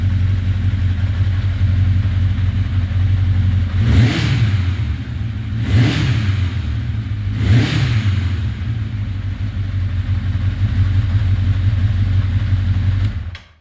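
A 1981 Honda CB900C motorcycle engine runs at a loud, close idle and is blipped three times into short, sharp revs that rise and fall back to the steady idle before it cuts off.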